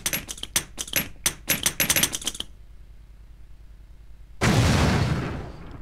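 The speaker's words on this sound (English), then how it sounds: "I'm going to shoot a smoke grenade." A spy character in a video game fires a smoke grenade: a quick run of sharp mechanical clicks, a short pause, then a sudden loud, dense hissing rush that holds steady and only begins to fade at the end.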